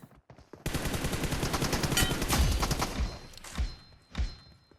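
Gunfire in the PUBG Mobile game: a long dense burst of rapid automatic shots, followed by a couple of separate heavier single shots. It is fairly loud, and nobody talks over it.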